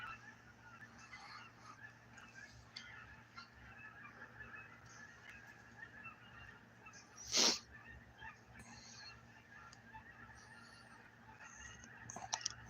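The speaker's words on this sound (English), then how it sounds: "can you hear the birds?" Birds call outdoors on the California delta during a fishing trip: faint scattered calls over a quiet background, with one loud, honking goose-like cry standing out midway and a few more short calls near the end.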